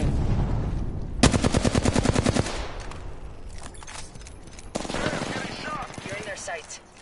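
Gunfire from Apex Legends, a rapid automatic burst lasting about a second followed by scattered shots and game effects, loud and close, with a voice speaking briefly.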